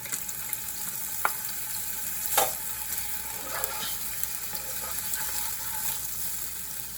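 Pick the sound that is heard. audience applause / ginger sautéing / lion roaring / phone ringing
ginger sautéing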